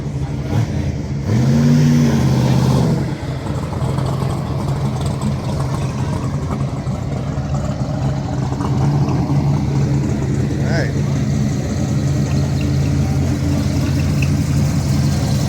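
Engine noise from cars rolling slowly into a crowded parking lot at a drag racing event, a steady rumble with occasional revving, a low hum throughout and a louder pass early on.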